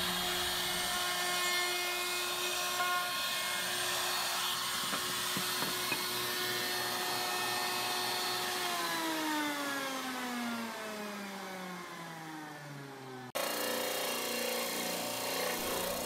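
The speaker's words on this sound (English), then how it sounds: "I'm going to take a rabbiting bit and I'm going to rabbit out a section in the bottom of the box" A router fitted with a rabbeting bit cuts into a quilted maple box, giving a loud, sustained high whine whose pitch sags under load before it cuts off near the end.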